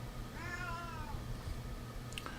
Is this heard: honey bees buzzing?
no